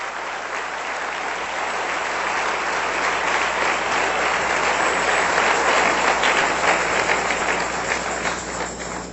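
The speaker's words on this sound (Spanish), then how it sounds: "Den un aplauso a nuestro Dios, que es muy bueno" Church congregation applauding during a Spanish-language sermon, a full, sustained roar of clapping that builds slightly and holds steady across the whole span.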